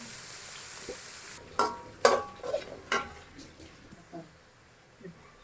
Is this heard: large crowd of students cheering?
no